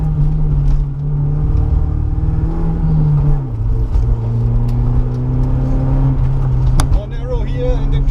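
A race car's engine drones loudly from inside the cockpit during an autocross slalom on an airfield, rising in pitch as it accelerates, dipping at a gear change, then climbing again while a driver talks over it.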